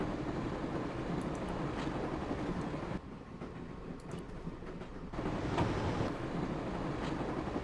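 The Orient Express rolls along in the Broken Sword video game, a steady, loud rumble with faint clicking from the rails that drops briefly in level mid-clip and then returns, with no talk.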